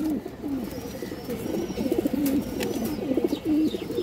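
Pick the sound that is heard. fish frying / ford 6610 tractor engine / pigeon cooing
pigeon cooing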